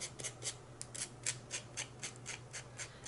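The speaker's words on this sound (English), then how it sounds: "I want to make sure it's all sanded away" Sandpaper rubbing decoupaged paper edges on a tatting shuttle, a quiet close scratching that repeats in a steady back-and-forth rhythm about three strokes per second.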